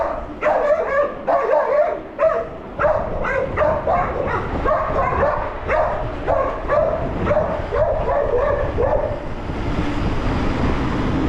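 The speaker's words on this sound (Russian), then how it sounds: "Собака." Several dogs bark and yip continuously on a cool, windy street in Crimea between Yalta and Gurzuf in February, close and loud, with overlapping rapid barks and some whimpering, fading out at the end.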